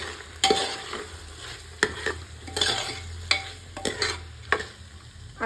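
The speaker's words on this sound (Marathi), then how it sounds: "आता आपण हे व्यवस्थित हलवून घ्यायचंय" Rice for masale bhat is stirred in a pot over gentle frying sizzle. The spoon makes sharp, irregular scrapes and knocks against the metal, about one per second, close and clear, and no one talks.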